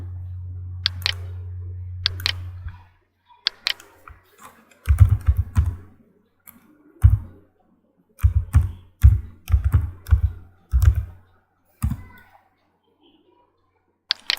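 A computer keyboard clatters as an IP address for a remote server is typed in: irregular bursts of close, crisp key clicks, with a low electrical hum under the first few seconds.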